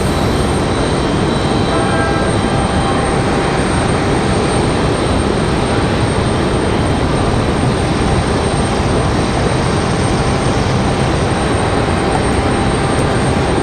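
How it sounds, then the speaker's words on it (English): Frontier airliner departing from the runway at Raleigh Durham International, a loud, continuous broadband engine roar that holds steady throughout. "We've got Frontier out at the runway, ready for their departure."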